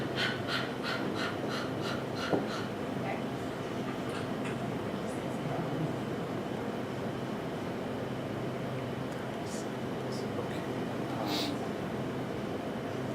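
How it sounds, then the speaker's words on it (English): Rapid, rhythmic breaths puff in and out in quick succession during an exposure therapy exercise, steady and close for several seconds, then settling into rougher, irregular breathing with a soft gasp near the end. "the way we're going to do it is to breathe like this"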